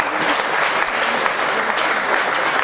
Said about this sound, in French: Vous avez le droit de l'applaudir.